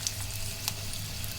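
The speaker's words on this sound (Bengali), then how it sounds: "এখন পেঁয়াজ আর রসুনটা ভেজে নেব" Chopped onion and garlic fry in oil in a frying pan, a close, steady sizzle with a few sharper crackles and pops, no talking.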